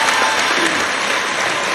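A crowd at an Islamic religious gathering bursts into loud, dense applause, a steady wash of clapping that holds at full strength throughout.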